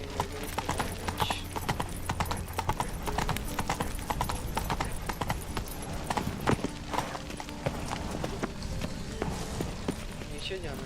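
The horse Roach gallops in The Witcher 3, its rapid hoofbeats pounding steadily and close throughout under a game soundscape, with occasional voice in the background.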